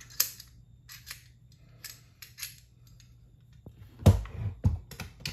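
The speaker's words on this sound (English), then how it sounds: "We'll throw the bolt in there." Metal parts of a PSA AK556 rifle clink and click as the bolt is fitted, a few sharp close taps scattered over quiet, with a louder clack near the end.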